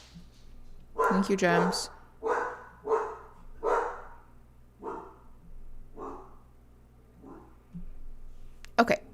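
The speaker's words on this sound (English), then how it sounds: "sorry if y'all can hear my dog screaming." A dog yelps and whines in a series of about eight short, strained cries spaced through a room, each rising and falling, with a brief bit of speech near the start.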